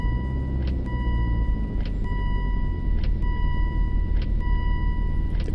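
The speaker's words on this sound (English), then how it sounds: "The car is just super loud" A car engine in the Roblox racing game, set in Camarillo, CA, roars through a cold start with a loud, steady low rumble, broken by soft regular tones from the game interface.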